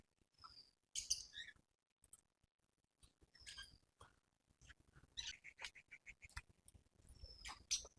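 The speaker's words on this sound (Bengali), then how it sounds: "প্রচুর পরিমাণে পক্ষী আছে, দেখাচ্ছি আপনাদের" Scattered high chirps and calls from birds in Bethuadahari forest, faint and somewhat distant, coming in short bursts with quiet gaps and light rustling between them.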